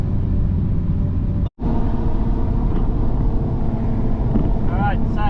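A 300 HP Mercedes Unimog U1300 truck cruises at 90 km/h around 2200 RPM, a loud steady engine and road drone from inside the cab with wind noise and a brief dropout.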